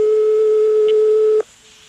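A steady phone tone with a faint higher partial holds loud and unbroken for almost one and a half seconds, then cuts off abruptly and leaves a quiet, faint residual hum.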